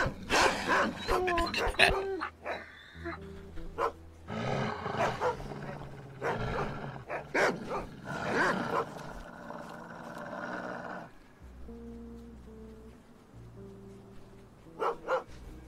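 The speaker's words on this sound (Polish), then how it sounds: "Pies czuje zapach." A dog in the video game DayZ barks and growls in loud bursts, then a softer run of game tones follows, with no one talking.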